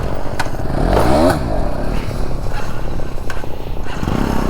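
A KTM RC 200 motorcycle engine drones loud and close during stunt practice, rising and falling through quick revs with a rough, buzzing tone throughout.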